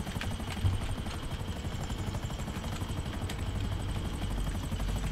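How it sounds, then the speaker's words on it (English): A helicopter in the video game GTA 5 Online drones steadily with a dense rotor and engine rumble, loud and continuous throughout with no talk. "We still see a high helicopter, though."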